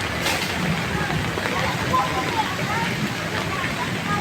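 Heavy rain falling steadily for over an hour inside the Adamjee EPZ, flooding a road beside a drain; a dense, constant wash of rain noise with no breaks.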